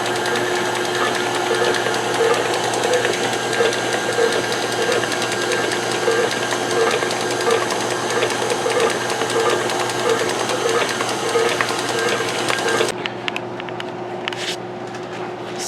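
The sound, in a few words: stand mixer mixing banana pudding cheesecake filling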